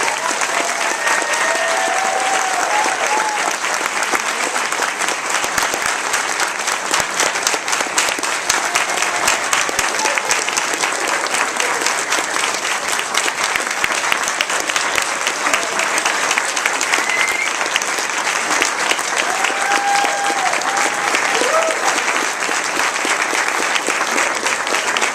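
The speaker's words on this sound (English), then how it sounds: "Another round of applause for the nursing graduates." Sustained applause from an audience honoring nursing graduates at a pinning ceremony, a thick wash of clapping that stays loud and unbroken throughout, with faint voices and a few whoops mixed in.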